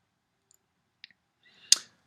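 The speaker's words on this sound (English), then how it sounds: "And you click publish." A single mouse click on a publish button, a short crisp tick preceded by a couple of faint smaller clicks, isolated in near silence.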